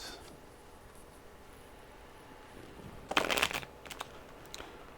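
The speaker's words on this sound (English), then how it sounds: "I should only shuffle the event cards, not the other cards that are stacked in here with them." Cards from a board game's event deck riffle and shuffle in a quick rustling burst after a quiet stretch, followed by a few softer taps and flicks.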